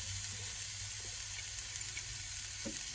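Onion added to a hot frying pan for an escovitch dish: a steady, close, loud sizzle with a dense hiss running throughout, plus a few faint scrapes and taps, and no talking.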